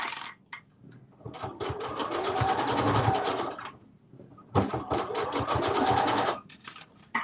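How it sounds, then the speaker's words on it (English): A serger sews the side seams of a dress with a fast, steady mechanical whir in two long bursts separated by a short pause, close and fairly loud with no talking. "the good news about the serger is that once you serge it, that's it"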